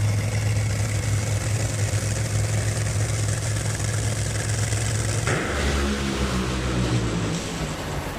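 Top fuel dragster engine of Brittany Force's car at the Chicago Route 66 drag strip, a loud, constant, rough low roar on the starting line that shifts abruptly to a deeper, pulsing rumble near the end.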